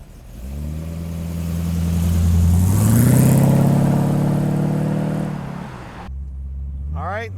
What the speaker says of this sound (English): Let's take our little 28 street rod for a ride.